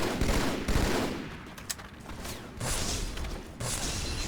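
Gunfire in Halo 2 on PC multiplayer: rapid volleys of shots and blasts come in loud clusters with brief lulls between them, close and without speech.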